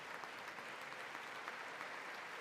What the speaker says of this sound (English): We gonna get a clap for that?